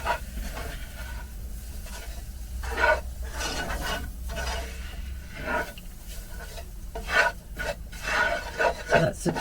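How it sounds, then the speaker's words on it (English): Flour is stirred into onions in a pan with a spoon, making irregular scraping and rubbing strokes over a faint sizzle. The sound is close and moderately loud, with no talking. "Stir all that in."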